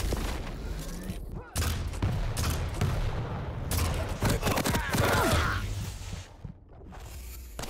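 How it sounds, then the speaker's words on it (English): Rocket fire and explosions in a Quake arena duel, a dense barrage of booming blasts and sharp bursts packed close together throughout, loud and continuous with brief gaps, under busy game action. "those rockets were just beautiful around the corner"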